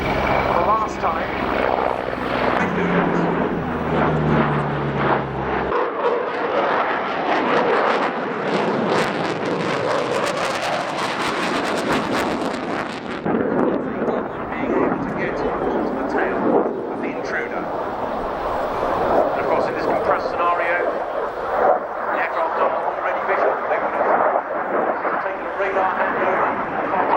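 A Mi-24V attack helicopter's heavy rotor thump and turbine roar fill the air, loud and continuous as it passes and maneuvers overhead in a flying display at the Royal International Air Tattoo 2022, with a crowd murmuring beneath.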